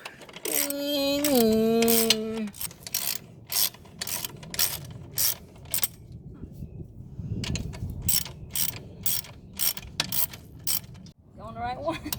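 Wrench ratcheting on a bolt while a motorcycle lowering kit is installed, a series of quick clicking bursts in short rhythmic runs, close by, with a voice speaking briefly at the start.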